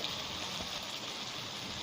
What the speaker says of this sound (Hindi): अब इसके अंदर हम थोड़ा सा पानी ऐड करेंगे